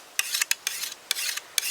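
A metal file rasps along the blade of a garden tool in a series of short, close strokes with brief pauses between them.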